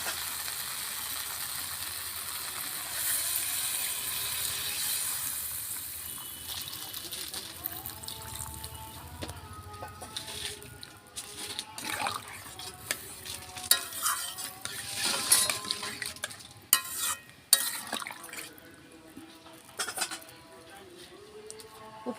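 Water poured into a sizzling pan of potol (pointed gourd) and potato curry with pumpkin, a steady sizzle and bubbling trickle with stirring clinks, close and moderately loud, while a person talks over it.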